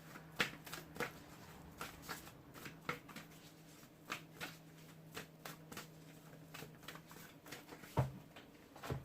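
Tarot or oracle cards being shuffled by hand until one drops out, giving a steady run of close, crisp riffling slaps with a faint low hum underneath.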